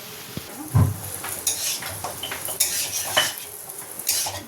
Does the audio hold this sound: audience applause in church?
no